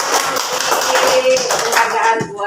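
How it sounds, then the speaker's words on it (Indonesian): Classroom audience clapping, a brief round of hand claps from a group of students, close and fairly loud, with a few voices mixed in. "Ini bawa aja ke tepuk tangan."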